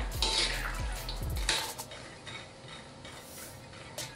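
Spice paste for an Indonesian base seasoning popping and crackling in a pan over low heat while being stirred, a few sharp pops early on over a steady soft sizzle.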